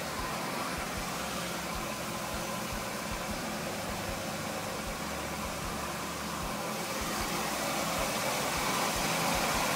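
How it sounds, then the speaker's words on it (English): Low, steady rumble of twin 454 engines idling on a 1979 Bertram 38 Convertible boat, with a throbbing mechanical vibration and no voices. "engines, and they're running"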